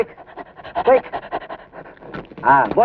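A dog pants rapidly in quick, close bursts while catching a biscuit, the breaths rising and falling in short rhythmic pulses with a human voice sounding briefly alongside.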